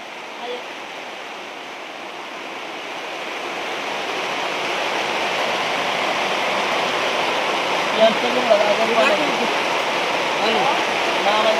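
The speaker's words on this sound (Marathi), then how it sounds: "हा आता पाणी वाढल वाटत दिसतोय ना मोठा पूर" Floodwater surging down from the hills after a heavy night rain roars as a steady, loud, broad rush that swells slightly over time, with a faint voice briefly in the background.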